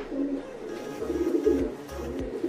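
A male racing pigeon coos in low, soft, rolling bursts, repeated several times up close, with light background noise and no talking.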